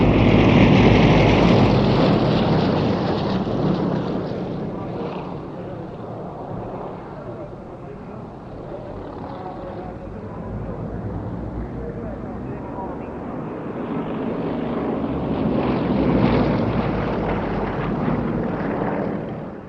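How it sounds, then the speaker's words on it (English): A team of six historic Yakovlev Yak-50 propeller aerobatic planes flying a formation display at the Duxford airshow, engine drone rising and falling as they pass, with wind buffeting and steady commentary over it. "the Aerostars, with their 6 historic Yakovlev Yak-50s"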